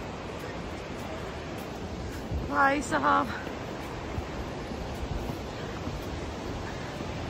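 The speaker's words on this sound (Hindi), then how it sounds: "अरे झरना कितना प्यारा है" A waterfall in the Dombai mountains gives off a constant broadband roar. Someone briefly speaks over it partway through.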